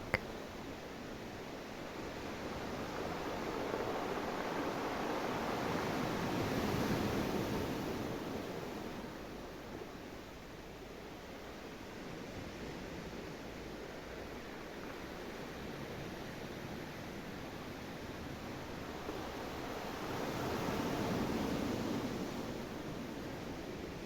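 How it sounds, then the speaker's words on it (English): Ocean waves wash steadily onto a beach, a soft broadband roar that swells and recedes in slow, rhythmic surges, continuous and fairly faint with no voices. "The only sound is the waves, creating a natural, rhythmic flow that you feel your own breath mimic."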